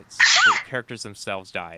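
A single loud, close human sneeze bursts out, followed immediately by a person talking.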